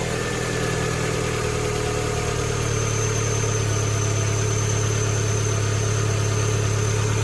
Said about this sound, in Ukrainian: Ці двигуни поки прогриваються, то вони чуть-чуть нестабільно працюються, їхня є норма.